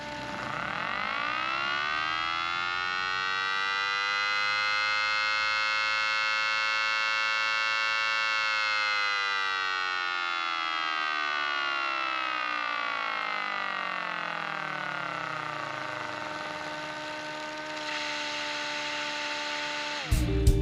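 A mini Thunderbolt siren runs at speed 3, its highest output, with a loud continuous wail that holds steady, then slowly winds down in pitch before ending with a few clicks.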